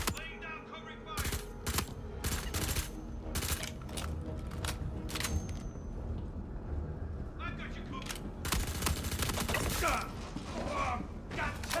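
Heavy-recoil weapon fire in Star Citizen comes as loud, rapid bursts of shots with gaps between strings, along with mechanical clatter and someone talking over the action.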